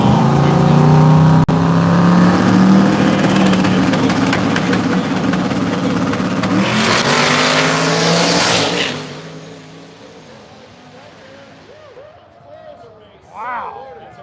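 Race cars with big tires roaring loudly at a live woods racing event, a sustained engine drone that fades after several seconds, leaving quieter background sound and a brief voice near the end.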